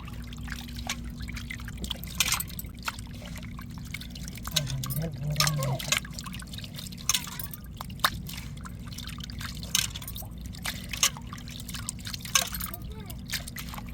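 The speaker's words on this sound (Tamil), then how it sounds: "நல்லா அலசி எடுத்துக்கிறோங்க குடலை" Goat intestines are rinsed in water, giving a run of soft drips, trickles and small splashes under steady low background noise.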